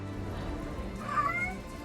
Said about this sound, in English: what was that cat noise?